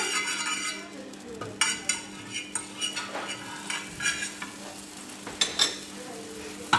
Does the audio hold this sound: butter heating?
yes